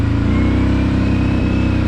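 A Kawasaki Brute Force 750 ATV rides down a steep access trail toward a creek after sitting unused for a month. Its engine and exhaust give a steady, loud, close rumble with a pulsing low throb throughout, and nobody speaks.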